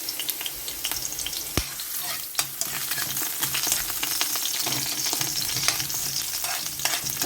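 Ginger sizzles and crackles as it fries in cooking oil in a pan, a steady close hiss with occasional sharp pops and stirring, no voices.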